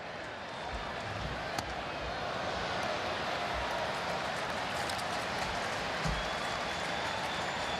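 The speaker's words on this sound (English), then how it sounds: "They're cheering his foul balls now." A baseball crowd at a Braves–Phillies game cheers foul balls, a steady wash of distant stadium noise with no sharp peaks, under a broadcaster's commentary.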